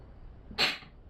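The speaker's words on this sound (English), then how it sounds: "And I'm going to sneeze." A single short, sharp human sneeze, close and fairly loud, with a quiet room background before it.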